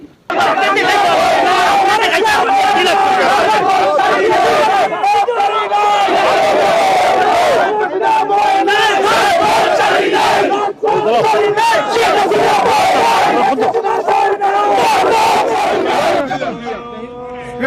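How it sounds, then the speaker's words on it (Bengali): A protest rally crowd on a London street chants loudly in unison, voices rising and falling in rhythmic waves with shouted lines and babble throughout, continuing almost without a break before tapering off at the end. "লন্ডনের রাজপথে যে মিছিল মিটিংটি হচ্ছে তার সামান্য অংশ আপনাদের সামনে"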